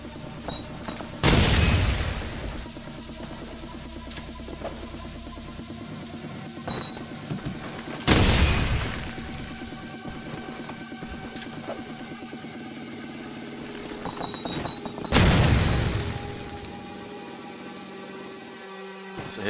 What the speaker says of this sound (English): So here's 1 or 2 clips of these nades working against Suga